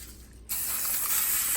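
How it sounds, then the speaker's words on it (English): Cooking spray hissing from an aerosol can into a baking pan lined with parchment paper, a steady close broadband spray that starts abruptly after a short quiet moment and continues without pause. "we have to spray with cooking spray"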